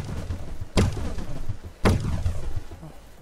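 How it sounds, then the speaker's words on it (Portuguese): Gunfire in a modded GTA San Andreas using GTA V and Warface weapon sounds: two loud, sharp shots about a second apart, each followed by a ringing, decaying tail. "Outra coisa bacana que eu reparei aqui é o áudio aqui dos tiros"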